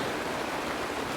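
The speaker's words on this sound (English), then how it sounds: "Mommy, the rain. It's raining." Rain falls in the Honkai Star Rail video game as a steady, dense wash of hiss with no distinct drops, alone and without voices.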